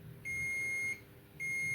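A multimeter on continuity test beeps while probing capacitors on a Nintendo Switch board: two sustained electronic tones, each under a second, separated by a short gap, clear and close over faint background hiss.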